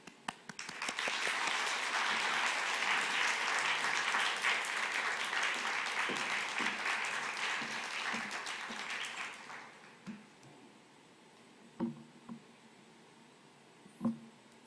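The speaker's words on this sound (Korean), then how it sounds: "이 시간 바로 선교사님 모실 때 저희들 환영의 박수로 모시면 좋을 것 같습니다" A church congregation gives welcoming applause at a Sunday afternoon service, dense sustained clapping from a crowd that lasts about nine seconds and then tapers off, leaving a few scattered claps and soft room noise.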